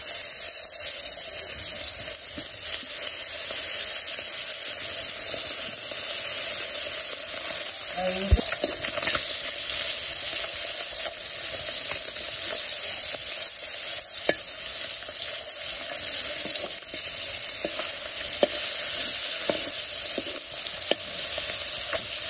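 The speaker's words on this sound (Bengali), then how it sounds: "তো মাছ ভাজা হয়ে গেছে, নামিয়ে দিচ্ছি।" Koi fish seasoned with salt, turmeric and chili frying in oil in a village kitchen: a loud, steady sizzle runs unbroken the whole time, with occasional stirring.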